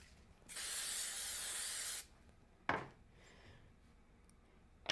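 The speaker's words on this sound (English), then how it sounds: "hit it with a little spray glue" Spray glue hisses from an aerosol can in a long steady burst of about a second and a half, followed by a short sharp spray puff and quiet crafting handling noises.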